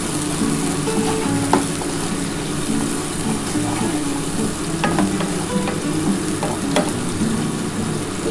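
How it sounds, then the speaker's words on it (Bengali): Onions fry in hot oil for katla fish curry, a continuous close sizzle with scattered spatula clicks and scrapes as they are stirred, no voices. "পেঁয়াজটা হালকা করে একটু ভেজে নিই"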